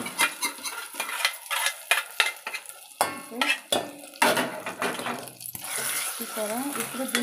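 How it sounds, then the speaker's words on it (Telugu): Hot tempering tipped into gongura tomato chutney and stirred, a brief sizzle mixed with repeated scraping and clinking of a spoon against the vessel in uneven bursts. "పోపు అనేది దీంట్లో యాడ్ చేసేస్తున్నా."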